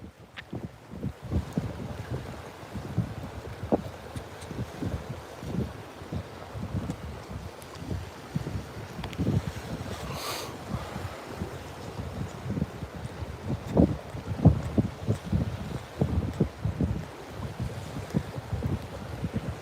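Gusty wind buffets the microphone aboard a fishing boat on rough, choppy saltwater in a Texas bay, with steady low rumble and frequent bumps of hull and water.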